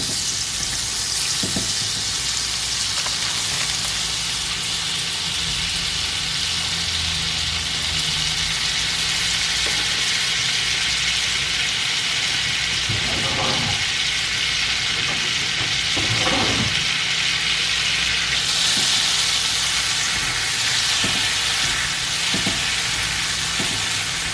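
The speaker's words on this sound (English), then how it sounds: "I'm just going to let this butter melt down and brown a little bit" Butter melts in hot oil in a pan, giving a steady, loud, dense sizzle throughout, with a few soft clinks and stirring sounds partway through.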